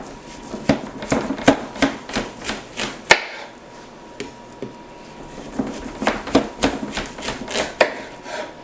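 A knife cuts fruit on a board for a fruit salad: a run of crisp, evenly spaced chops, a brief pause, then another steady series of close, sharp knocks.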